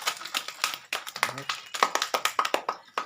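Small group of people clapping for the winners of a village game played with plastic glasses, an uneven stream of sharp close claps with a voice talking over them.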